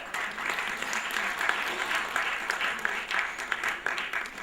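Sustained applause from an audience at an award function in New Delhi, dense steady clapping from many hands, fairly close and even throughout, with a faint murmur of voices mixed in.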